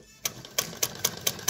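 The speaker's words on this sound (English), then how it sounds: "There we go, sewing a lovely stitch." A vintage Singer 99k hand-crank sewing machine stitching, giving a steady run of about six sharp, evenly spaced mechanical clacks, close and fairly quiet.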